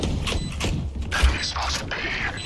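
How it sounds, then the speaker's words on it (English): A weapon being reloaded in Valorant produces a series of quick mechanical clicks and clacks, close and fairly loud over a busy game mix. "Reloading."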